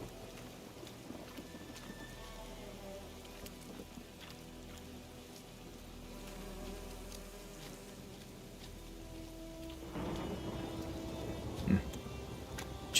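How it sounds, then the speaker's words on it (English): Steady rain patters softly in the background in the video game The Witcher 3, with a low rumble and a louder burst of splashing noise near the end. "Just enjoy walking in that rain."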